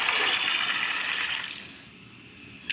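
Green peas poured into a pot of boiling water, giving a loud rushing splash and bubbling that fades after about one and a half seconds into a quieter simmer, with a small clink at the end.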